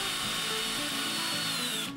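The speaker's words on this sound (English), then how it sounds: "And you just drill a set of new holes." A power drill bores holes into the peg head of a Fender Squier Stratocaster guitar, a loud steady whine with a stepping motor tone that cuts off abruptly at the end.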